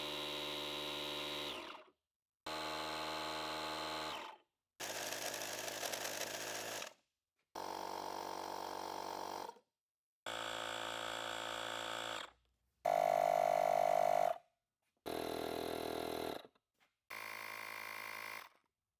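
Cordless tire inflators run one after another in eight separate bursts of about two seconds each, every one a steady buzzing compressor drone with its own pitch, split by short silences.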